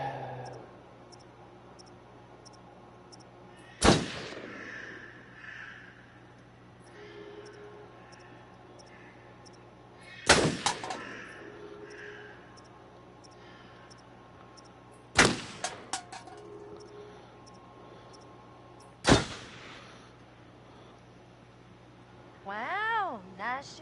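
Four sharp, loud gunshots spaced several seconds apart in a video game shooting match, each with a brief ringing tail, over low steady background hum and quiet talk.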